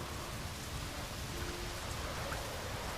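Heavy, steady rain in The Witcher 3: Wild Hunt, a dense unbroken hiss of falling water filling the whole stretch, loud and alone with a hint of distant rumble.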